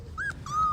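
A Corgi puppy whimpers close by, two short high whines in quick succession, the second longer and steadier.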